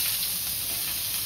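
Potatoes fry with cumin in a pan, giving a soft, continuous hiss of oil that stays even and close for a brief moment without any talk.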